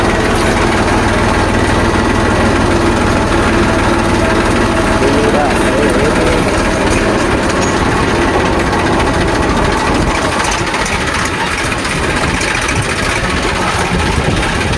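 A tractor engine runs loudly and continuously nearby while pulling a thresher for urad bean threshing, a dense rumbling drone throughout with voices faintly under it.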